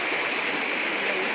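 Stream water flowing steadily near a village, a dense, constant rushing wash, loud and close, with no break.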